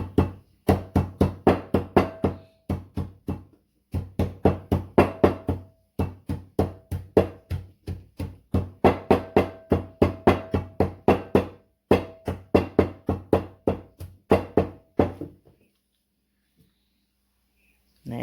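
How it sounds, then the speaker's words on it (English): Scallion pounded with a bottle on a kitchen surface, producing long runs of rapid, sharp knocks in steady bursts with short pauses between, loud and close, ending in near silence. "I just pound the scallion with the bottle."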